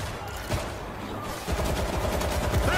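Gunfire rattles in World War Z, with dense overlapping bursts of automatic shots from several weapons and an intense spell in the second half amid the game's ambient noise.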